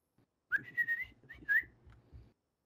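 A player character whistles in the DayZ video game, a short melodic tune of several rising and falling notes at moderate loudness with faint low rumble beneath.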